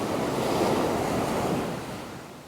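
Steady roar of surf washing onto Nai Thon Beach in Phuket, Thailand, broad and continuous with wind buffeting the microphone, fading slightly toward the end and no voices.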